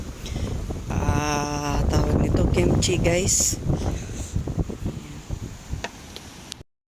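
Strong gusting wind buffeting and shaking a rain tarp over a campsite on a rainy night, a rough rustling roar under a voice, with clattering cooking sounds close by.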